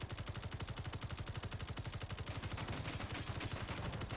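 Automatic gunfire hammers at an energy shield in the video game Space Engineers, a fast, unbroken, evenly spaced stream of loud shots that keeps going for the whole stretch.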